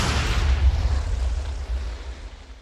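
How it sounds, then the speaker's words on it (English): A loud explosion in the Minecraft Demon Slayer mod: a deep, continuous rumbling boom that stays heavy in the low end and slowly fades over a few seconds. "I went to investigate after hearing a loud explosion"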